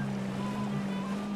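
Ocean waves wash steadily in a video game after a car drives into the sea, a constant close rush of water over a low steady hum.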